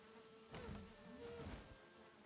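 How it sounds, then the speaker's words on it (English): Bees buzzing in the video game Valheim: a soft, wavering insect drone that swells twice as if passing near, faint and alone over a quiet background. "I hear bees."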